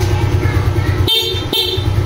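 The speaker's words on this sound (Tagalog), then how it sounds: "Sige nga, busina nga, boss." Car horn sounding during a vehicle check, two short honks standing out over a steady idling engine.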